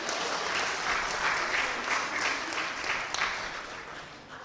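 A church congregation claps together in a sustained round of applause, steady and fairly close, with no talk over it.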